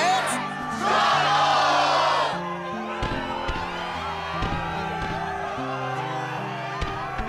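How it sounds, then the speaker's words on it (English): Excited crowd cheering in the Kingdom Hearts HD 2.5 ReMIX video game, a loud burst of roaring voices in the first few seconds that settles into steady game music with sharp hits and effects. "Yes, the crowd is fired up, so you know what comes next."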